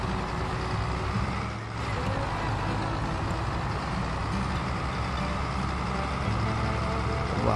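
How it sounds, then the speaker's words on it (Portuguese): A truck in Farming Simulator 22 drives with a steady, loud engine drone that rises slightly toward the end, while someone talks over it. "Acelera aí, caminhãozinho."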